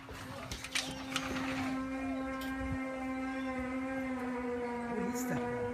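Strange trumpet-like sky noise near Lake Erie, a steady low droning tone with layered harmonics sustained throughout, faint and distant, with people's voices and movement intermittently over it.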